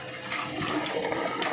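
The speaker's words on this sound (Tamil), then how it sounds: "தண்ணி வெளியே வந்து" Water gushes out of a trolley milking machine being cleaned, a continuous rushing, splashing flow like a tap filling a tub, close and fairly steady, with no talking.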